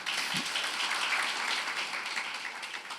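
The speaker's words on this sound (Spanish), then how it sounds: "dale un aplauso al Señor" Congregation applauding for the Lord during a church service, a dense, steady wash of many hands clapping together, fairly loud and sustained throughout with no voices over it.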